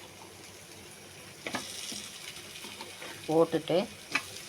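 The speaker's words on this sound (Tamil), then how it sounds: "இனிமேல் இந்த உரித்து வச்சுருக்கிற உருளைக்கிழங்கை போட்டுருவோம்." Peeled potatoes dropped into a hot pan of fried onions and tomatoes, a steady low sizzle with a few louder stirring scrapes and clatters near the end, a voice briefly speaking.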